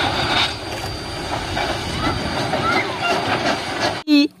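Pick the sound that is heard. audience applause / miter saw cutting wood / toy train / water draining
toy train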